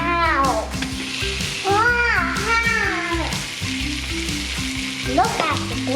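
Big prawns frying in a pan for creamy seafood with spinach noodles, a steady loud sizzle running throughout while someone talks over it.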